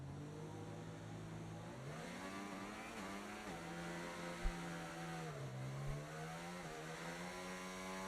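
A Formula 1 car engine in the F1 24 racing game revs on the starting grid with cold tyres, its loud, smooth, high-pitched tone rising and dipping steadily throughout without any speech.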